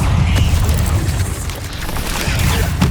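A disarming spell, Expelliarmus, cast during a fight with dark wizards in Hogwarts Legacy, heard as a loud, dense magical blast with rumbling booms across a short burst of combat.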